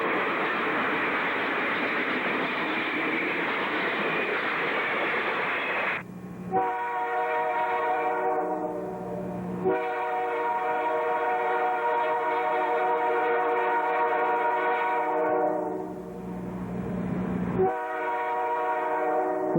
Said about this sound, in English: We're at mileage 11 on the Kirkland Lake sub as train number 211 goes by us.